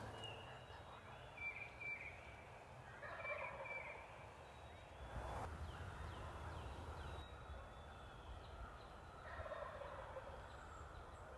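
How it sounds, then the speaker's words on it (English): Wild turkeys gobble near their roost in Michigan woods at dawn, several distant gobbling bursts spread over the stretch against a quiet outdoor background, faint and far off. "we heard a few different groups of gobblers out here"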